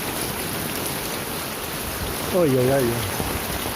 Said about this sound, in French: Il pleut tellement là, il pleut.